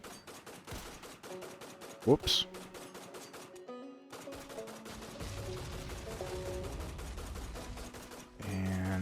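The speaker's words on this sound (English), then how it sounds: "explosions going off, there's gunfire. You can hear all that echoing off in the distance" Gunfire effects for a tabletop sci-fi roleplaying game, bursts of rapid distant shots with a sharp bang, layered over background music while a person speaks briefly.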